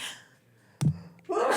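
A single sharp sneeze bursts out on live radio after a quiet stretch, close and loud, followed by a breathy exhale.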